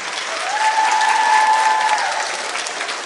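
A school audience applauds and cheers for fighter Alim Nabiev on his return to his home school No. 16, a steady, dense wash of clapping that swells and holds for about three seconds with a faint tone running through the middle.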